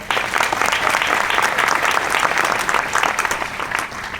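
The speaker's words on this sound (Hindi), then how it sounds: "आपके लिए एक बार जोरदार ताली होनी चाहिए।" Loud, energetic applause from a seated audience at a talk in Dadar, with continuous clapping from many hands throughout.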